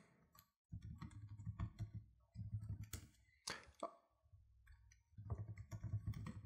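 Faint, scattered clicks and taps of typing on a computer keyboard come in short irregular bursts with brief pauses, very quiet over a low background hum.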